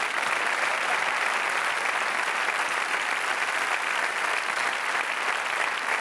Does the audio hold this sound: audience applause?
yes